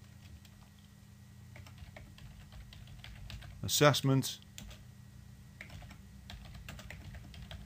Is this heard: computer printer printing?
no